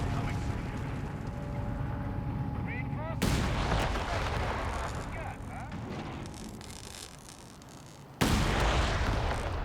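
Tank battle in the game Company of Heroes 3, with heavy cannon blasts and rapid shots over a rumbling battlefield, two sharp loud booms breaking the din and softer firing and clanks in between.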